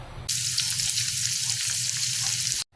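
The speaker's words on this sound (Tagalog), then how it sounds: "Igisa lang natin ng maigi yung gulay sa mantika para masarap" Vegetables sautéing in oil in a pan give a dense, steady close-up sizzle that starts abruptly, holds even for over two seconds, then cuts off, with no voices.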